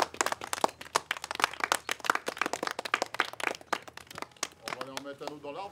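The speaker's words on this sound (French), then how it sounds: "Bon, on applaudit." A small group of neighbours claps hands after a show-of-hands vote at an outdoor community gathering, a burst of close, uneven claps lasting several seconds with voices talking over the end.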